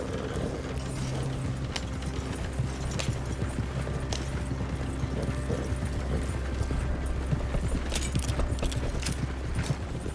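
Horse hooves clip-clopping steadily in Red Dead Redemption 2, a continuous even rhythm of hoofbeats with creaking tack over a low ambient rumble.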